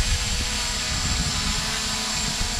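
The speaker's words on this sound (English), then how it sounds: "Even with the pretty decent wind here, it's maintaining altitude without any altitude hold" An MJX Bugs 3 quadcopter drone hovering outdoors in a fairly strong wind, its propellers giving a steady, close, unbroken buzzing whine with wind noise mixed in.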